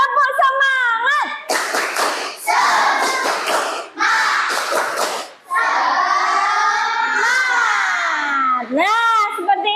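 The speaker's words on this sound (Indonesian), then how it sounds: "Oke, coba tepuk semangat." A classroom of children does a rhythmic spirit clap, bursts of clapping and shouted chanting in a loud group pattern, with a teacher's voice at the start and end.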